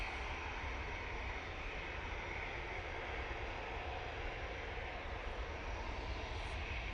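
A lightly loaded airliner on a positioning flight to Edinburgh rotates and climbs away at Manchester Airport, its engines a steady, broad roar that holds at even strength throughout with no voices.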